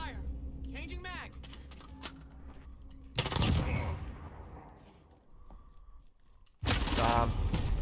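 Bursts of gunfire from a Call of Duty multiplayer match, with loud, dense volleys that swell and cut off in clusters amid the game's ambience, and a voice talks over the opening stretch.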